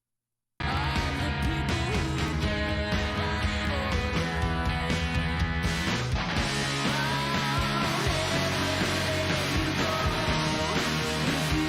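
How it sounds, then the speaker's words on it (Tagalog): Heavy, distorted electric guitar grinding through a full rock band performance of a song, with thick sustained chords over drums and bass, loud and continuous after a brief silent start. "Bumigat yung tunog ng gitara ni Neisha"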